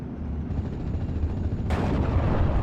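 Rocket artillery firing at tanks in the Steel Division: Normandy 44 battle game, a low rumbling background suddenly broken by a sharp, loud launch blast near the end, with no voices.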